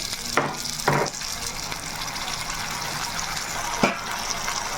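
Water goes into hot frying masala in a pan while making mutton curry, giving a steady sizzle and bubbling hiss with a few short splashy bursts, no voices.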